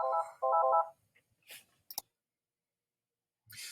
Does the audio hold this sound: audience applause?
no